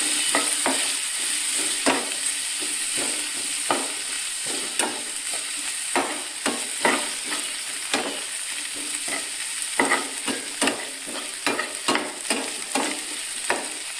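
Dried anchovies with turmeric sizzle steadily in a pan, with repeated scraping stirs breaking through the constant frying hiss at close range and no talk.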